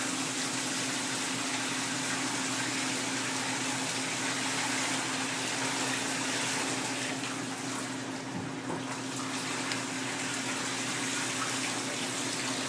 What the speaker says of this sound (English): take out the water very slowly without losing any of the curd